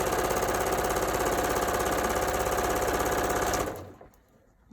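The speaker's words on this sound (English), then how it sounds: "So let's take this first side to the sewing machine" A sewing machine runs in a fast, steady rapid-fire stitching rhythm for several seconds, then stops abruptly, leaving quiet.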